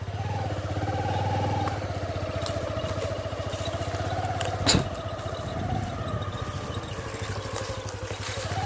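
A motorcycle engine drones steadily as the bike rides along near Sareswar Beel, its pitch rising and dipping slightly, with a brief louder burst midway.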